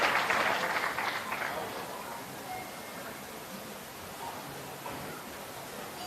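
Applause from a crowd at a government health event in Jabalpur, brief and fairly faint at the start, then thinning into a low background murmur.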